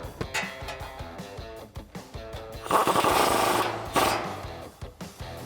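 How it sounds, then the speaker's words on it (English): A factory castle nut on a Toyota Tacoma 4WD front suspension is tightened with a 19mm socket, giving rapid rattling clicks that build to a louder, denser burst midway before easing off. "We can take a 19mm socket and tighten that up."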